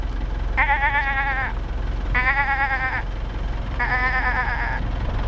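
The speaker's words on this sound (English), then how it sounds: "Managi likes the little goats. There's another goat." Small goats bleat in three drawn-out, wavering calls spaced across a few seconds, heard over steady low outdoor rumble with no talking.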